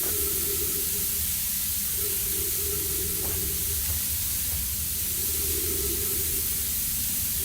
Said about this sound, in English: A little bit of sand falling.